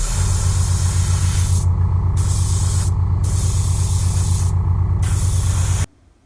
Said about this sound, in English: get some pearlized silver. I'm going to take this little mesh, wrap it around, and spray